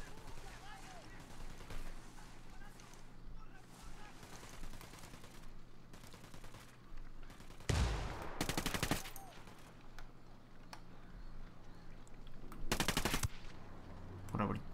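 Gunfire rattles in the tactical shooter Ghost Recon Wildlands, with steady rapid automatic shots under ongoing background noise and two loud, sharp bursts standing out near the end, while a voice speaks at times.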